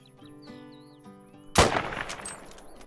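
A single loud rifle shot fired at a fallow deer in the hunting game Call of the Wild, a sharp close crack with a decaying echo, following calm ambient birdsong and a steady background tone.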